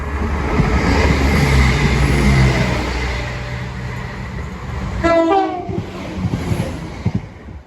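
A Class 170 Turbostar diesel train on a Cardiff to Nottingham service accelerates away past Attenborough railway station and level crossing, a loud close engine roar and rumble, with a sharp two-tone horn blast midway as the train pulls off.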